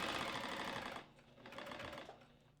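A sewing machine backstitches a seam on a tea towel dress, running loud and steady for about a second, then continuing more quietly in short bursts.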